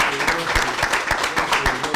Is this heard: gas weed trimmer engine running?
no